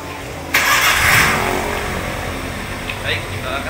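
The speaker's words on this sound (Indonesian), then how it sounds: "Oke, saya hidupkan dulu mesinnya." A Daihatsu Xenia car, an older model, starts with a sharp burst and then settles into a steady idle hum that carries on close by for several seconds.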